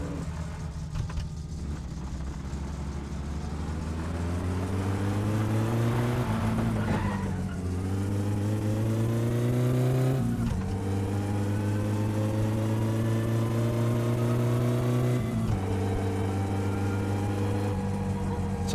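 Engine of a car in My Summer Car drones steadily and revs up through gears, pitch climbing and dropping with each shift, loud and continuous with no talking.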